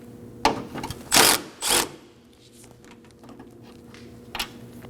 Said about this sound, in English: using a 10mm socket, remove the 10mm bolt